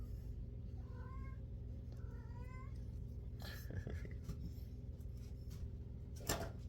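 A cat meows softly a couple of times over a steady low mechanical hum, followed by faint shuffling noises nearby.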